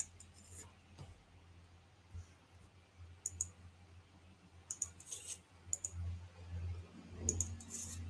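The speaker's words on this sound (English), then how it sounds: "We're going to shuffle this deck." A deck of game cards is shuffled at a table during a Mythic: The Hunt for Bigfoot playtest. It comes as faint, scattered clicks and short papery riffle bursts against a quiet room.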